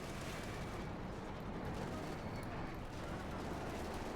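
Rapid, dense .50 caliber machine gun fire in the Company of Heroes 2 battle game, a steady loud burst of gunfire filling the whole stretch amid other battlefield noise.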